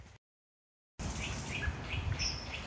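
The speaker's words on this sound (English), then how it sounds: "Baby birds by the sound of it." Baby birds chirping in park woods, a run of thin high peeps repeating every half second or so after a brief silence, moderately close amid faint outdoor background.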